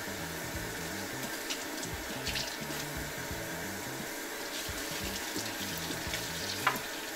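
Tap water running steadily over a vegetable held under the faucet while being washed, a continuous close splashing rush with faint handling sounds and no talking.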